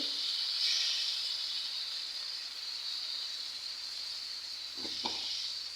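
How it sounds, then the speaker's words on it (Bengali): Fried onions in a pan sizzle and hiss steadily after water is added, a bright continuous crackle with a couple of soft knocks near the end and no talking. "পেঁয়াজ ভাজা ভাজা হয়ে গেছে এখন আমি পানি দিয়ে দিলাম"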